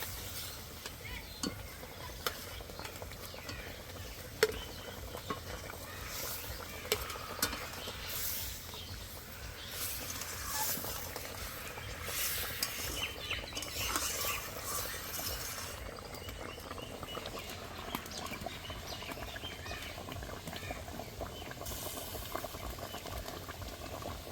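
Katla fish pieces dropped into a boiling Bengali fennel curry sauce, a steady dense bubbling and sizzling that runs continuously at close range without any talking.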